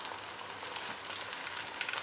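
Chicken pieces coated in Hapima crispy fry mix fry in hot oil, giving a steady, dense crackling sizzle with scattered pops throughout, close and continuous, with no voices.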